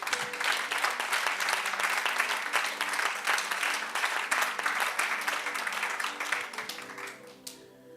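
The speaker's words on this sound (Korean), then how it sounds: "우리 감사의 박수 한번 올려드리겠습니다." Congregation in a church service applauding in thanks, a dense, sustained wash of clapping from many hands that fades out near the end.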